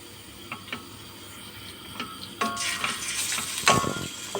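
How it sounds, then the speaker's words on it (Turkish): Diced beef hitting hot oil in a pot for Uzbek pilaf, starting with sparse ticks and clinks, then bursting into a brighter, close sizzle halfway through with a sharp spike near the end. "Ve güzelce Suyumuz çekene kadar güzelce kavuracağız."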